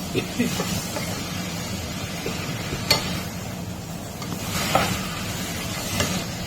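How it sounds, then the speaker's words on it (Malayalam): Chopped tomatoes and onions fry in a pan for a tomato fry, a steady soft sizzle running throughout with a few faint clicks of stirring against the pan. "അതും കൂടി ഇതിലിട്ടിട്ട് നന്നായിട്ട് അങ്ങ് ഫ്രൈ ചെയ്യാം"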